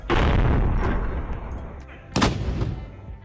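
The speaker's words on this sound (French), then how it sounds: "c'est également à cet endroit qu'est tiré 2 fois par jour le célèbre coup de canon de Malte" Malta's famous cannon at Valletta fires, a deep booming blast heard from a distance that rolls and echoes before a second, sharper report follows about two seconds later.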